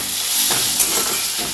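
Bitter gourd chorchori sizzles and hisses in a hot pan while being stirred, a loud continuous fry with faint scraping through the short stretch.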